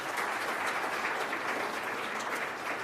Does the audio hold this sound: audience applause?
yes